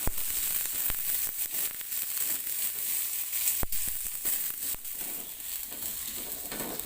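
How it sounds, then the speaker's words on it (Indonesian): Shallots and garlic sauté in hot oil with a soft, continuous hissing sizzle broken by occasional sharp crackles and pops, fairly quiet and heard without any talking. "Tumis bawang merah dan bawang putih hingga layu dan aromanya harum"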